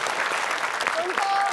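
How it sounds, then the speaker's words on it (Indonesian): Studio audience at an Indonesian comedy quiz show breaks into brief applause, a dense burst of clapping mixed with voices and a short whistle-like tone. "Tepuk tangan"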